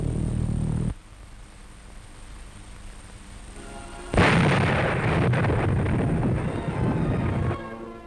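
German flying bombs explode over towns and villages of southern England in WW2 footage, a dull rumbling roar that drops away, then a loud sustained blast and rumble swelling near the end.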